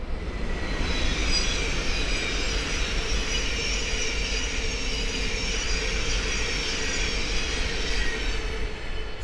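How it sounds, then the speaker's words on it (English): A Thameslink Class 700 electric train runs from Peterborough to Horsham past Great Wymondley on the East Coast Main Line, a loud, steady rushing roar of wheels and wagons throughout. "we have another Thames Link 700 coming through from Peterborough to Horsham"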